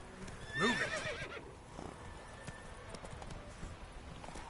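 Roach the horse in The Witcher 3, hooves clip-clopping in a steady galloping rhythm with a loud whinny early on, then continuing hoofbeats over ambient game background.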